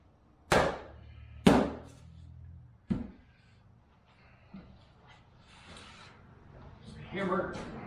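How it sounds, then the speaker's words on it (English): Sharp hammer blows on wooden kitchen cabinet parts during a kitchen remodel: two loud strikes close together, a third lighter one, then quieter tapping and shuffling, with a faint voice near the end. "Hammer."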